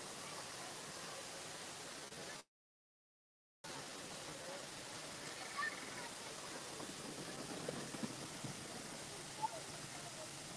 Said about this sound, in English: Right by this waterfall here.